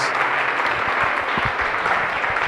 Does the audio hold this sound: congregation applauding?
yes